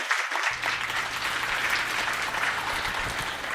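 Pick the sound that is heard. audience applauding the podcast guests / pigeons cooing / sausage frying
audience applauding the podcast guests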